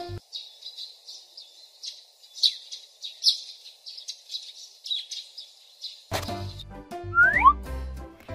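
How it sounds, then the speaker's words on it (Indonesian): Several macaws calling in a steady run of repeated high, raspy squawks, then a burst of brighter chirps and whistles near the end, loud and close with no talk. "4 burung makau terbang bersama"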